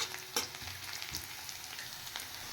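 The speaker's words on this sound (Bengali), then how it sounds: "এটা একটু হালকা ফ্রাই করে নেব।" A paste of poppy seeds, green chilies and onion fries lightly in a pan with a quiet, steady crackling sizzle, plus a few soft scrapes and taps from stirring.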